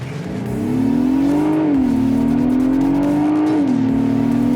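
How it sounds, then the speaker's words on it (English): A Mazda CX-90 SUV's inline-six engine pulls hard under launch acceleration, its steady rising drone climbing in pitch with a brief dip for a gear change, loud and close throughout. "That inline 6 just sounds amazing."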